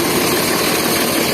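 Engine number 895 of a toy train running through Changa Manga forest in Pakistan: a loud, continuous, rumbling engine drone with a constant steady tone and no talking.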